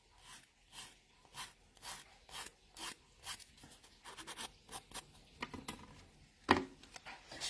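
Dip powder nails being filed down with a hand nail file, a steady series of rhythmic scratchy rasping strokes, close and fairly soft, with one sharper scrape near the end and no talk.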